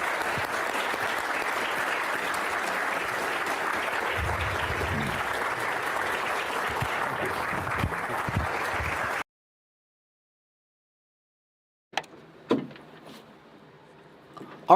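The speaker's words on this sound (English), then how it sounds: "Round of applause." A conference audience applauds, a steady broad wash of clapping for about nine seconds that cuts off abruptly into silence, followed by a few faint scattered knocks and rustles.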